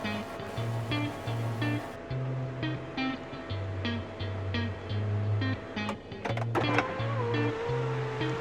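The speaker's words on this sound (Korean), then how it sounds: "썬루프가 길어서 저 뒤에까지 있거든요 길어서 그런지 썬루프 열리는데 조금 시간이 좀 걸리네요" A BMW X1's long panoramic sunroof opens slowly, its electric motor humming in steady pulses with faint mechanical clicks and a few sharp knocks near the end, heard up close inside the car.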